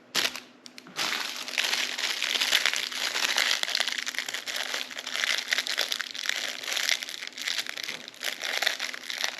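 Plastic and paper packaging from a Ruroc Atlas 4.0 helmet unboxing being torn open, crinkling and crunching loudly and close for several seconds, with no voices.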